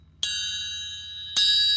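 Two bright metallic triangle strikes, about a second apart, each ringing out with a long shimmering sustain in otherwise quiet surroundings.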